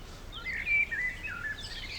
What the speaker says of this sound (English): A blackbird.